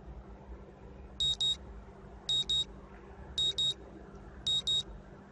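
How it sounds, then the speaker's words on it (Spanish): Alarm clock in the visual novel Katawa Shoujo beeping in four evenly spaced double bursts of sharp electronic tones over a quiet background hum, with no talking. "Suena mi despertador y me sacudo inútilmente por un momento"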